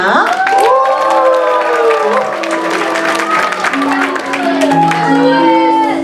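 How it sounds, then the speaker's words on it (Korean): A church audience at a Christmas Eve tangram performance claps and cheers under the sustained tones of music, with voices rising through the crowd noise. "박수와 함성을 부탁드려요"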